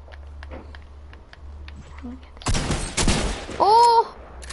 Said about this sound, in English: He's spamming his SMG, which can kill me.